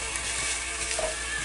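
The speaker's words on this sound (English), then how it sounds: "So now I'm going to add in my onions. I'm just going to stir that in." Onions are stirred into a hot pan and fry with a dense, even sizzle that holds steady for a brief moment, with no talking.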